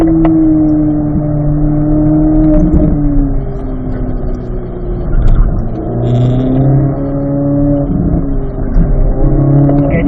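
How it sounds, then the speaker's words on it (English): A race car on a track runs loud and close throughout, its engine note climbing and dropping as it shifts up to fourth gear, brakes, and downshifts back to third. "Grab 4th gear. You'll brake at the 3. Downshift back into 3rd."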